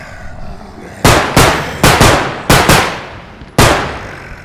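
Gunfire in the Bodycam Zombies video game: five sharp, loud shots at irregular intervals, each a broadband crack with a short decaying tail, no voices over them.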